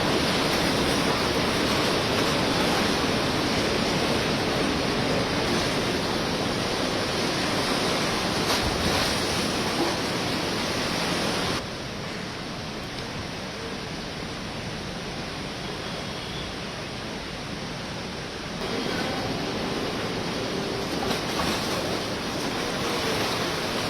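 Monsoon floodwater in Himachal Pradesh rushes steadily around a two-storey building whose ground floor is fully submerged, a dense, continuous broadband roar that dips slightly in level midway, with no voices.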